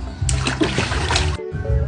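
Water splashes in a small, shallow home swimming pool: a busy burst of close splashing and sloshing for about a second, followed by a brief pause and softer trickling.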